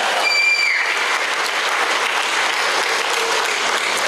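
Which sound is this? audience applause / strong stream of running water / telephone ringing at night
audience applause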